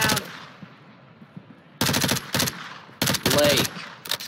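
Bursts of automatic rifle fire in Call of Duty Modern Warfare II, several loud rapid volleys separated by pauses, with a distant rumbling tail between them.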